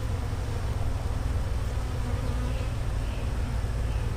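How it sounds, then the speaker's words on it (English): Honeybees buzz around an opened hive frame during a nuc inspection, a dense continuous drone of many wings close by, steady and unbroken, with no talk over it. "Bees are settling down now."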